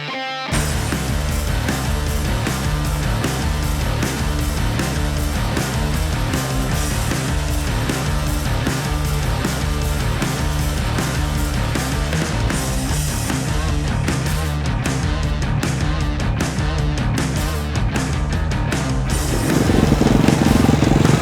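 A TM 450 motocross bike ridden on a track roars with loud, rhythmic engine revving that rises and falls as the throttle works, close and continuous, building to a stronger surge near the end, with no talking.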